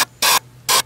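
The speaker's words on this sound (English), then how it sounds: "spray some more in there." WD-40 sprayed onto a lawn mower throttle cable in two short bursts, a brief hiss followed by a longer one after a pause, loud and close.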